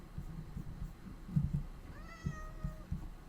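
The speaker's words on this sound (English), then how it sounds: "oh, it's a cat" A cat lets out one clear, drawn-out meow partway through, fairly close, over faint low background noise and thumps.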